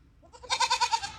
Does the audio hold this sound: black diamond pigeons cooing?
no